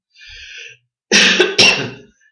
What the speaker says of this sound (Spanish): esta tos me está teniendo mal